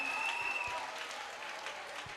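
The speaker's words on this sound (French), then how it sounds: "Acclame très fort Jésus." Church audience at a teaching service applauding steadily, a dense, continuous clatter of clapping with a faint voice mixed in.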